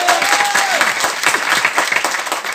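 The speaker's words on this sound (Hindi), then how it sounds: "जोरदार तालियां एक बार।" Loud applause from a seminar crowd, many hands clapping in a continuous, energetic wave, with a brief whistle-like tone near the start.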